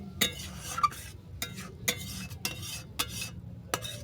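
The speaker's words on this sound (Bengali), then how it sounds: "দুধটা মিশিয়ে নিলাম" A spoon scrapes and clinks against a pot while milk is stirred into a hilsa fish sour curry made with ol stalks and mango. The stirring comes as a series of crisp, evenly spaced strokes over a faint simmer.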